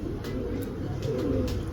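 Pigeons kept in a loft cooing softly in low repeated murmurs, with faint chirps and background noise throughout.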